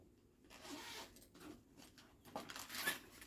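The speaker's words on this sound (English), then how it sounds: "We'll start here with the zipper." A zipper on a drone case for a Contixo F35 is pulled open in a few short rasping strokes, close and fairly quiet, with nobody speaking.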